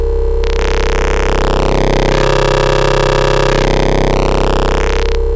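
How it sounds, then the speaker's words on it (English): A loud, buzzing wavetable synthesizer tone from a Behringer WAVE or Waldorf M, harmonics warping and shifting mid-way as an overdriven signal turns it gritty and distorted, before settling back, held steady throughout. "it just completely wrecks the wave, creates this weird distortion that sounds absolutely wonderful on certain things"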